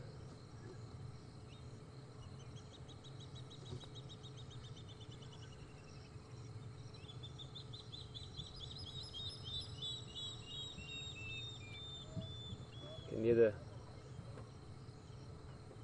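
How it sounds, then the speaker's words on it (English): Spotted thick-knees call at night from a distance, repeated rising and falling whistled cries over a steady chorus of crickets, with a brief louder knock near the end and a few quiet words spoken. "spotted thickneys or spotted dukkop, the birds calling them"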